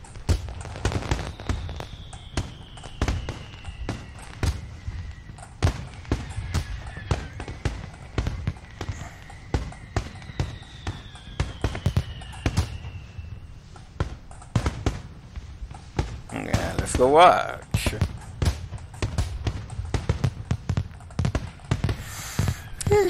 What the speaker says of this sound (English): It's just fireworks.